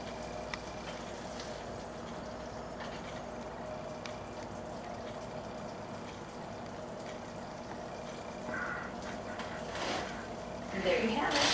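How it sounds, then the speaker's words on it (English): Liquid poured over fried carrot-potato cakes in a hot pan, giving a steady, moderately loud sizzle and bubbling that swells and brightens near the end. "So what I like to do is go ahead and just pour it over"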